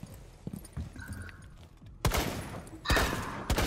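Gunfire in Rainbow Six Siege, with scattered muffled shots followed by two loud bursts of close fire and a final shot, over faint game noise.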